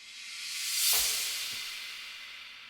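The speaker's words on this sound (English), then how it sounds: "And then we add a little riser and a crash." A white-noise riser in a 90s G-funk style beat swells gradually to a peak, then a hissy crash cymbal hits with a low thump and slowly decays, faint and without any voice.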